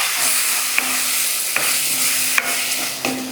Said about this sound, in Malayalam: ഇനി എല്ലാം കൂടി ഒന്ന് മിക്സ് ആക്കി കൊടുക്കാം.